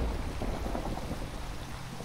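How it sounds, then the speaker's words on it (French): A Minecraft modded thunderstorm with lightning striking nearby: heavy, continuous rain hiss mixed with a deep rolling thunder rumble, loud and close throughout. "alors là, je suis en plein orage. J'ai la foudre qui est tombée pas loin."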